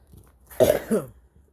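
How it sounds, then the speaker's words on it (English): A single close, harsh cough, a short throaty burst followed by a second rasping push, then quiet. "Still got a little cough."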